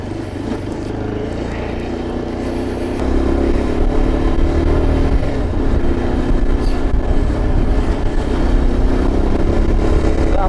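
Motorcycle riding an off-road mountain road of dirt and potholes toward Chanshal Pass, its engine droning steadily and close, growing louder after a few seconds as the bike pulls harder, with rough wind and road noise throughout.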